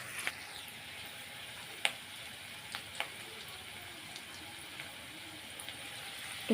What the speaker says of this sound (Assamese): একেখিনি তেলতে দিলো পিয়াজ আৰু জলকীয়া এতিয়া পিয়াজ আৰু জলকীয়াখিনি অলপ সময় ভাজি লওঁ